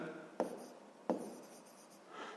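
A pen scratches softly across paper while working a sixth-grade math exercise, faint and close, with two sharper strokes standing out from the continuous rubbing.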